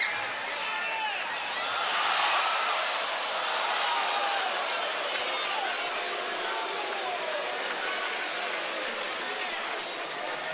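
A vocal crowd at a night baseball game between the Angels and the Orioles in Baltimore boos a fan who dropped a foul ball, a broad, sustained rumble of crowd noise under a commentator's talk.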